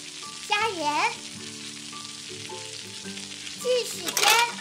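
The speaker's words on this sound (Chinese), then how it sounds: "我们来煎鱼。" Toy frying pan with fish, giving a steady electronic sizzling sound throughout, with cheerful toy music tones and a child-like voice underneath.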